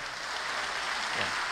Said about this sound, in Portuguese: Pode aplaudir Jesus pela vida dele?